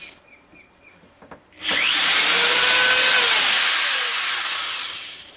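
A power drill bores into wooden pantry drawers to widen pre-marked holes, a loud close whine that bites in after some quiet handling knocks and holds steady for several seconds.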